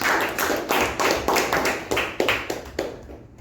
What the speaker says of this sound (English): let's give the general evaluator a nice round of applause